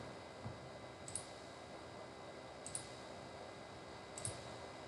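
Three faint, evenly spaced pairs of computer mouse clicks over a steady low room hiss, quiet and close with no talking.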